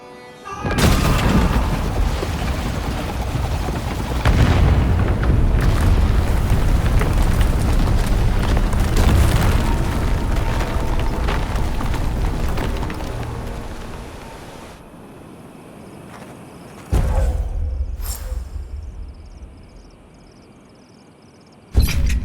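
In the video game Avowed, a place of great power is torn down in a long, loud, rumbling roar of crashing destruction lasting many seconds, then a quieter lull broken by a sudden fresh burst of impact near the end.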